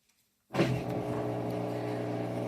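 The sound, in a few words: Whirlpool WTW4816FW3 washing machine making loud noise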